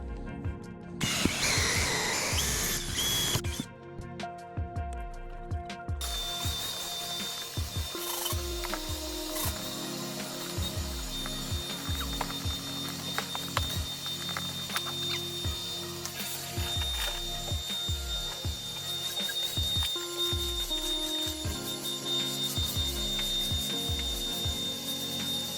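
A drill bores a hole through a wooden top plate while network cable is run in a veterinary clinic: a bright, dense burst of cutting noise early on, then a steady run of rhythmic mechanical grinding and ratcheting, close by, with no talk.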